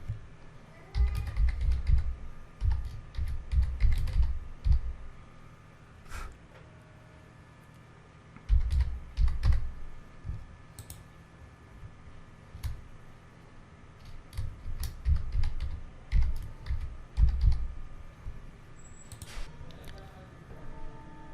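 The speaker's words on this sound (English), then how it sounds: "let me type the email and password" Someone types an email address and password on a computer keyboard, several quick bursts of close, clattering keystrokes separated by pauses.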